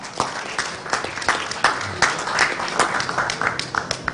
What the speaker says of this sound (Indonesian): Tepuk tangan buat Argentina.